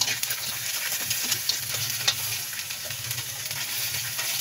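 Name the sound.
stirring crabs cooking in coconut milk with taro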